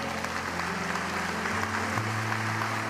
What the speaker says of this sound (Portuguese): dê um aplauso forte a Ele